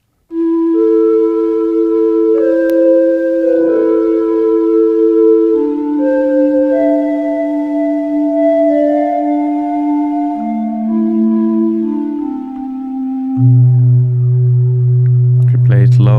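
High-feedback delay from a Universal Audio Echo Station pedal, sampled and played as sustained tonal notes stepping through pitches, closing on a lower held tone and a brief burst at the end.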